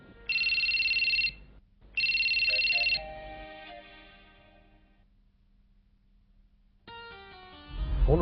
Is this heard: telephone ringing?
yes